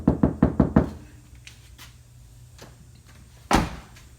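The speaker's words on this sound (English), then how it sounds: "See how loud that knocks?" Knuckles rap on a car door panel without KilMat sound deadening, five quick resonant knocks followed after a pause by one more single hollow thud, loud and close.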